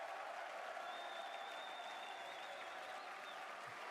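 Crowd applause at the Red Bull Wololo Londinium video game final, a steady broad wash of clapping filling the space without pause, with faint voices mixed in.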